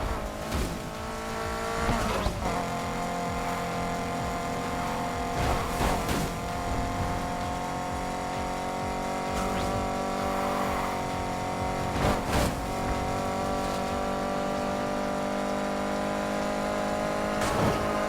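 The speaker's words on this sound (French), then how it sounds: "si tu veux drifter, écrase la pédale des gaz au prochain virage" A car in the racing game Need for Speed Heat holds a steady high engine drone while drifting, with several short tire squeals and skids breaking through at intervals.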